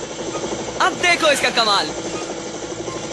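Cartoon helicopter helmet whirs with a rapid buzzing engine drone in a Hindi-dubbed Richie Rich episode, rising for about a second under and after a short line of speech, loud and close.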